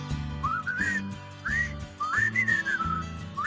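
A person whistles a cheerful, rising tune in short phrases over a soft background accompaniment, clear and close.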